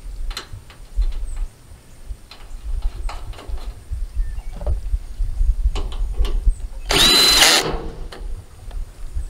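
A power drill drives a screw into a metal gazebo roof panel in one loud, close burst of under a second, set among scattered knocks, taps and handling noise from the assembly work.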